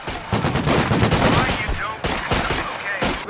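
An MG-42 machine gun fires in the World War II strategy game Company of Heroes 2 as a loud, rapid, dense rattle of bursts with brief pauses, blended with other battle gunfire.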